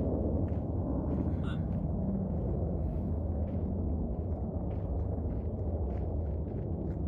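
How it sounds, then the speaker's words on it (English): A Phantom fighter jet passes low overhead along an airbase flight path, its jet blast a loud, continuous broadband roar that fills the whole clip with steady rumbling low end. "that is the sound of a jet blast of a phantom"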